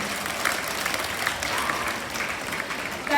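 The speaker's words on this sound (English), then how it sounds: "give a big hand clap for all these things" A school audience at a youth parliament gives a sustained round of hand clapping, moderately loud and continuous, with a faint murmur of voices underneath.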